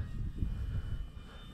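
An E-flite T-28 Trojan 1.2 m RC airplane flying on a windy day with flaps and gear down, a low fluttering electric motor and wind rumble close to the microphone, rising and falling briefly.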